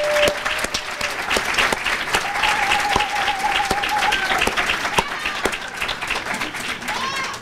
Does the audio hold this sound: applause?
yes